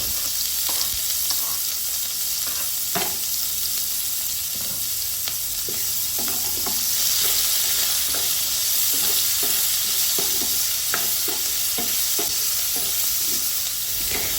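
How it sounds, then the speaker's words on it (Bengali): Onions and black cumin seeds frying in oil for a flat-bean mash, with a steady sizzle and repeated scraping and clinking as a spoon stirs the pan, close and alone without any talk. "এই সব উপকরণ নেড়ে চেড়ে যখন ভাজা হয়ে আসবে"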